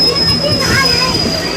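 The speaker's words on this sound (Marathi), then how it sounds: "बाहेरली ट्रेन बघा किती मस्त बोलली" A passing train outside, heard as a steady rumble of rolling wheels with a thin, high rail squeal running throughout and faint voices nearby.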